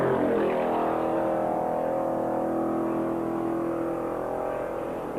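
Racing sidecar outfits pass at speed, their engines making a steady loud whine that holds through the pass and fades slightly at the end, with no talking.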